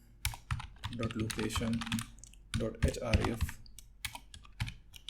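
Computer keyboard keys clatter in quick bursts as code is typed out during a Laravel and jQuery coding lesson, with someone talking over much of the typing.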